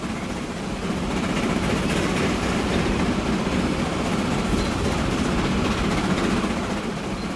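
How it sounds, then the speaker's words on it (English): A train rolls past in the railway-building video game Transport Fever 2, a steady, loud rumble and rush of wheels that holds level for several seconds with no voices over it. "Here comes another train."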